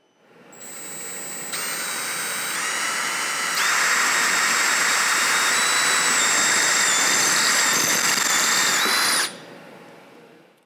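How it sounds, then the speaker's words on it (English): A power drill whines loudly and steadily as it bores into a metal pipe, its pitch climbing once it bites, running about eight seconds before cutting off. "The drill has such good centering characteristics that I can drill directly onto the bright surface."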